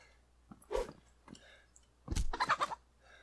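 A few short, scratchy clucks from a chicken in the video game DayZ, separated by pauses, with a louder burst of clucking near the end over a faint low hum.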